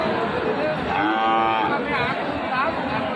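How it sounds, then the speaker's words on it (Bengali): Cattle at a busy livestock market, where Shahiwal bull calves are sold, let out a drawn-out moo. Steady crowd chatter and trading voices surround it. "দেখেন কী পরিমাণে গরু আমদানি দেখেন প্রচুর পরিমাণে গরু"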